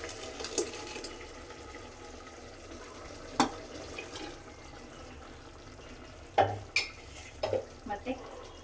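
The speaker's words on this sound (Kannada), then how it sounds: "ಈ ಥರ ಎಣ್ಣೆ ಚೆನ್ನಾಗಿ ಫ್ರೈ ಮಾಡ್ಕೊಬೇಕಾಯ್ತಾ." Ground ginger-garlic paste fries in oil for mushroom biryani, a soft, low sizzle broken by scattered scrapes and taps of a spoon against the pan.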